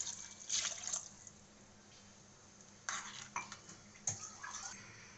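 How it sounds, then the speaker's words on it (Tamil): Water is poured from a cup into a pot of masala rasam in a home kitchen, giving faint splashing bursts and a few clinks of utensils, heard alone without talk. "இப்போ ஒரு கப் தண்ணி ஊற்றுறேங்க."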